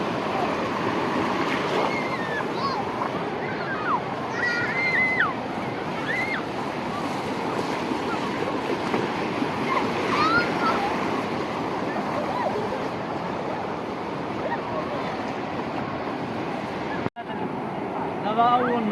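Sea waves at the Ghaba Americaine beach in Tangier wash in as a continuous rushing surf, mixed with gusty wind on the microphone and faint distant voices throughout.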